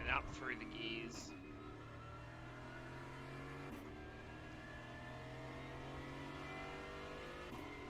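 A GT4 race car in the iRacing simulator at Road America accelerates up through the gears, a steady droning engine note under talk after a brief louder burst at the start.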